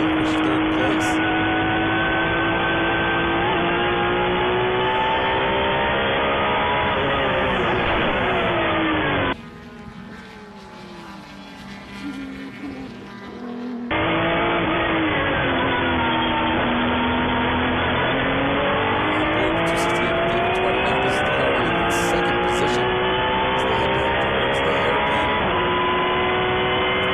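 Race cars lapping a repaved asphalt track at the FARA Memorial 300: a loud, continuous engine roar with rising and falling pitch as cars pass, a brief quieter gap midway, and a commentator talking over it.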